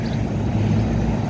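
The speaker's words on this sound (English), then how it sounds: "Fan motor." Fan motor running on a Carrier Weathermaker package heat pump, a steady low mechanical hum with a tonal drone, close and continuous without a break.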